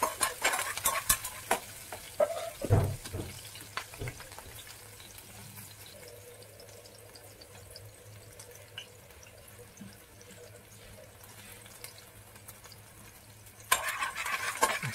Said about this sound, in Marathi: त्यानंतर आपण हिरव्या मिरच्या टाकलेल्या आहेत, चॉप केल्यात. त्याला थोडं परतून घेऊया व्यवस्थित.